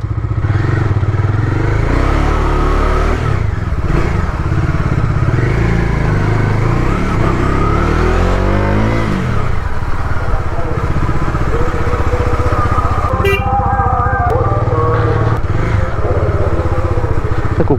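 A car engine turns over and runs with a rough, loud mechanical rumble, rising and shifting as the car pulls away, with a brief clatter near the end.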